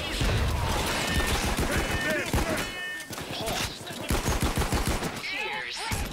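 Heavy gunfire in the heist shooter Payday 2, dense bursts of shots and impacts fired against snipers, loud and continuous, with a player talking excitedly over the fighting.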